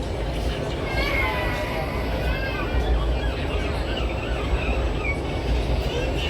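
Steady rumble and rattle inside a moving train carriage runs throughout, with voices talking over it.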